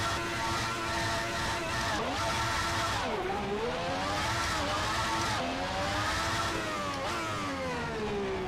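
Ferrari cars on track at the Zandvoort circuit, engines rising and falling as they accelerate and shift past, a continuous loud roar with sweeping pitch changes throughout.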